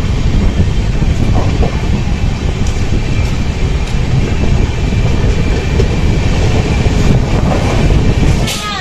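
The Howrah to Dhanbad Black Diamond Express pulls away from a station stop and runs along the rails. The rumble is loud and steady throughout, with faint wheel clatter and a brief squeal near the end.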